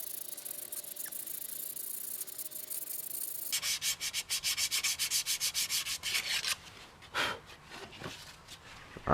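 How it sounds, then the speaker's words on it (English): Abrasive paper scrubs back and forth on a rusty John Deere 110 tractor part in quick, rhythmic strokes. A quiet pause comes first, and a few slower rubs follow the fast strokes. "I've been sanding for about 10 minutes now"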